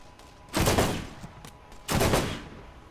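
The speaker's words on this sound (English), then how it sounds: "it like literally has rocket launchers on it, so it's, you know, firing slag bullets as well as rockets" Weapon fire in the Borderlands video game from a vehicle armed with rocket launchers, shooting slag bullets and rockets: two loud, sustained bursts of rapid gunfire about a second apart over low background noise.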